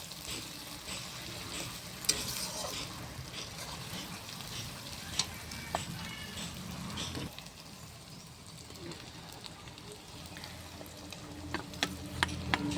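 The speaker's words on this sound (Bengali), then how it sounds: "এবার রসুনটাকে ওটার সাথে ভেজে নেবে।" Garlic frying with browned onions in a pan for Bengali-style chicken curry, a continuous sizzling crackle with occasional stirring clinks, close and fairly quiet, with faint background sounds.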